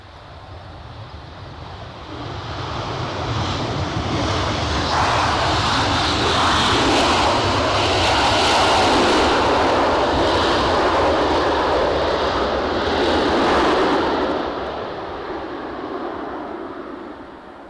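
Jet engines of a JetBlue airliner at Edinburgh Airport make a loud, broad roar that swells over several seconds, holds steady, then eases slightly toward the end, with no voices.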